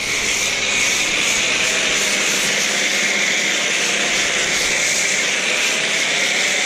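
A foam cannon fitted with a 1.1 orifice sprays foam onto an S550 Mustang as a pre-treatment, giving a loud, steady, close hiss that continues unbroken throughout.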